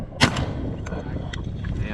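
A single sharp shotgun blast rings out while duck hunting in North Dakota, followed by fainter, smaller reports in open air with wind noise.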